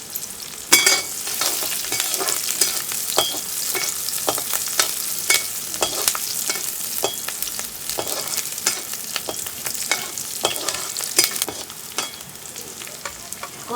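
Onion, garlic and green chilli sizzling loudly in a hot pan on an outdoor cooking fire, with continuous frying hiss and repeated sharp scrapes of a stirring spoon close by.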